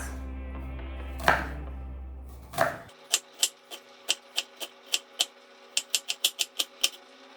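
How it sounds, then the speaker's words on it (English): A knife dices onions on a cutting board. It starts with a couple of louder scraping knocks, then settles into a run of sharp, close, rhythmic chops that speed up toward the end, with no one speaking. "you want to have your onions diced up like this, really small dices"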